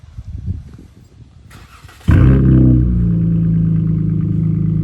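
Tuned Dodge Charger SXT V6 firing up on a warm start, a sharp catch after quiet shuffling noise, then a loud, close, steady burbling idle that carries on alone.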